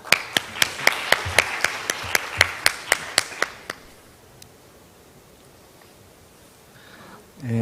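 At a Seoul bio-medical international conference, a few hands clap in a sparse, evenly spaced run of sharp claps for about three and a half seconds, then fade into quiet room tone.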